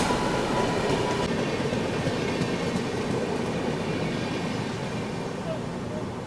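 The Mahanagari Express, running from Varanasi to Mumbai, rumbles past with a heavy, continuous roar of wagons and wheels on rails, loud and close for several seconds with faint clatter mixed in.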